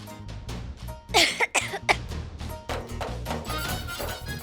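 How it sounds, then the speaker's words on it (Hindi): A fit of harsh, loud coughing, several bursts in quick succession, followed by rough breathy sounds. "नहीं, बस थोड़ी सी खांसी थी।"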